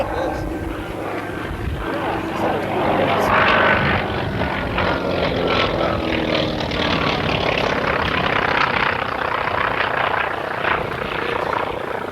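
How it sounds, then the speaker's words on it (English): A propeller airplane makes a flyby at a wing anniversary gathering, its engine drone swelling loudly and then holding steady while people talk over it. "Yeah, you better do a flyby."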